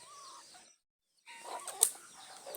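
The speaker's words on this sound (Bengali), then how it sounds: "অনেকগুলো মুরগা আছে দেখেন" Village roosters and hens caught for market sale cluck softly nearby, a short burst of calls, a brief silence, then more clucking with a sharp squawk and faint wing flaps.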